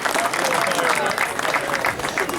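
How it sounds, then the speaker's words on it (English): A banquet audience at a speedway awards dinner applauds for a crew, steady close clapping throughout the short stretch. "a nice round of applause for the crew"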